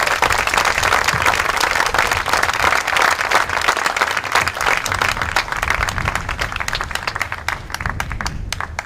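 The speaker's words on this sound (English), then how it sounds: "Clap your recognition for the past workers and the present workers" A crowd at the St. Pete Pier opening ceremony claps and applauds for past and present workers, a loud, dense wash of many hands that runs steadily throughout and thins slightly near the end.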